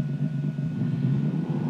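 A simulated RC short course truck engine from an ESS-one sound box idles with a deep, steady rumbling burble, close and unbroken throughout.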